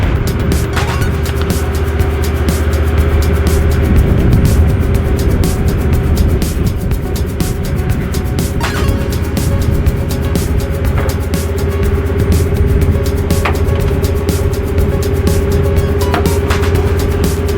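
A sports car being driven off a trailer, its engine giving a steady, close rumble with a constant low drone throughout and no voices.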